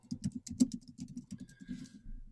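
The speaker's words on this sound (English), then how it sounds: "when I was typing that in" Quick, close keystrokes patter on a computer keyboard as search terms are typed on a Mac, an uneven run of crisp clicks with no speech.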